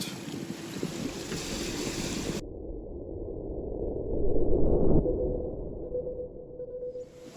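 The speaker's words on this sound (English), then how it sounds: "A day's sailing, and 200 kilometers later, we pull ashore for the night." A safari boat on Lake Nasser in Egypt cruises along with a steady engine drone, wind buffeting and water rushing against the hull, swelling briefly before easing off, with no voices.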